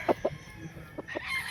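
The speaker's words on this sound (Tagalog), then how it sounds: "ito yung una sa manok na nakuha na natin dito" Gamefowl at a game farm cluck in short separate bursts close by, with a few sharper calls spaced through the moment and some soft background noise underneath.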